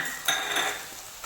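A spoon scrapes and clinks against a pan as ground peanut-chili paste with coriander is stirred into sautéed tomatoes for a spicy prawn kharda, several close metallic scrapes over a soft background.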